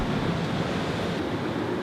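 Ocean waves washing onto a beach fill the air with a steady broadband roar, fairly loud and continuous, with wind mixed in and no voices.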